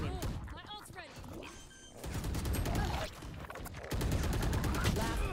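Valorant match with rapid bursts of gunfire, loud and close, sharp repeated shots in clusters with brief pauses, a voice talking over the firefight.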